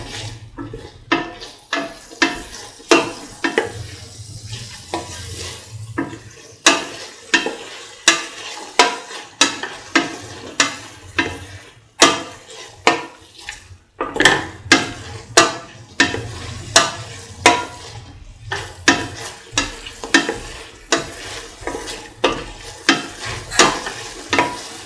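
Lemon long yard bean rice being stirred and sautéed in a pan, with rhythmic scraping strokes repeating over a continuous sizzle, close and fairly loud, and no talking.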